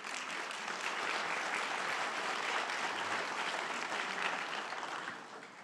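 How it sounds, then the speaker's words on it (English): An audience at a tribal nations summit gives a steady round of applause, a dense continuous wash of many hands clapping at moderate volume that starts to fade near the end, with no talking over it. "So let's give them all a round of applause,"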